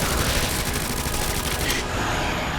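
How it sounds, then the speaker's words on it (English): MQ-11 submachine gun fired in Resident Evil 2 Remake during the Birkin boss fight: a loud, rapid stream of automatic shots that cuts off abruptly, followed by lingering game ambience. "just finish him off with the MQ-11"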